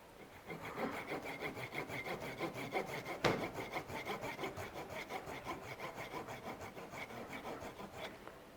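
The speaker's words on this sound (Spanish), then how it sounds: "vamos a tirar de sierra. Entonces cortamos por aquí" A hand saw cuts through a hawthorn bonsai branch in steady rhythmic back-and-forth strokes, close and rasping, with one sharp knock partway through and no talking.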